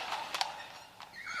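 Horses pulling a horse-drawn carriage, heard as a short sound effect: a couple of brief whinnying calls and light hoof clatter over a soft background.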